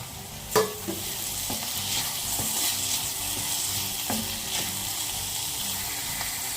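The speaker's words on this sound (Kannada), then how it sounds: "ನಾನೀಗ ಇದಕ್ಕೆ 2 ಟೊಮೆಟೊ ಹಚ್ಚಿಟ್ಕೊಂಡಿದ್ದೀನಿ. ಅದನ್ನು ಹಾಕ್ಕೊತಾ ಇದ್ದೀನಿ." Two chopped tomatoes fry in a pan for a bitter gourd gravy, with a steady close sizzle and occasional clinks and scrapes from stirring.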